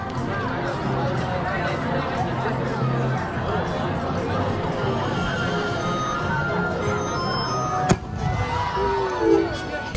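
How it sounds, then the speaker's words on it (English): A nighttime fireworks show at an outdoor Moon Festival BBQ party in upstate New York, with steady crowd chatter throughout and a sharp firework bang near the end, followed by scattered pops and voices. "This event ends with fireworks at night."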